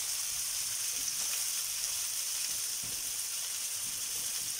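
Shrimp frying in a pan give off a steady, dense hiss of sizzling oil that runs without a break at an even, moderate level, with no voices.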